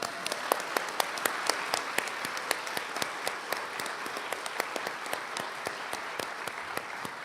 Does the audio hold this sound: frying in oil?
no